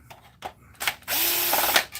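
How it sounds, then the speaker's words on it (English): Power driver backing screws out of a Polyvision projector's optic assembly: a few short clicks and rattles, then one sustained close whirring burst of about a second that winds down. "pop the Optic Assembly screws out"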